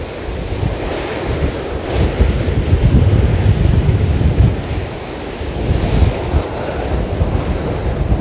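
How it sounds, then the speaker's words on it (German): Loud, steady roar of water rushing out of a dam, the Zillierbach dam, in a constant torrent, close by and filling the whole clip with no voices. "die lassen hier auch noch das Wasser ab"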